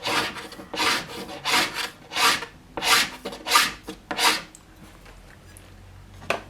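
A file is drawn repeatedly across a ski base to scrape off excess repair material, giving close rhythmic rasping strokes about every half second that stop before a quiet end.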